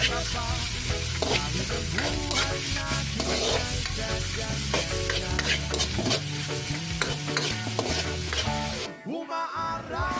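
Food being stirred and sautéed in a pan until browned, a steady close sizzle and fry with scraping stir strokes running throughout, dropping away briefly near the end.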